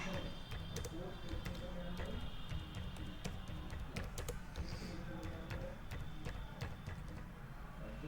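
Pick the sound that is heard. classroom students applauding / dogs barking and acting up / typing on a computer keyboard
typing on a computer keyboard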